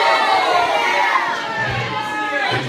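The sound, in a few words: noisy crowd with children shouting in the background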